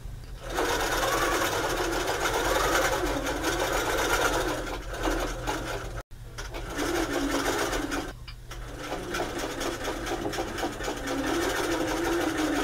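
A longarm quilting machine runs continuously while basting a quilt top onto nylon backing and batting, a loud, steady rapid stitching hum close by, with one brief pause midway before it resumes.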